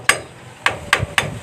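A hammer tapping on a part of a Honda TMX Alpha 125 motorcycle's starter: four sharp, close metallic strikes, one then a pause and three more in quick succession.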